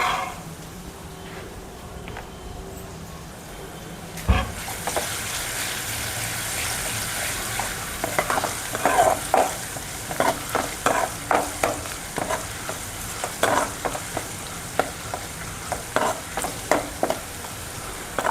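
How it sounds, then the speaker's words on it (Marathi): Ginger-garlic paste fries in a pan for an aloo vange (potato and brinjal) dish, a steady sizzle broken by repeated scraping clicks of the stirring spoon, close and fairly loud, with no talking. "आलं लसूण पण छान लालसर होऊ द्यायचं."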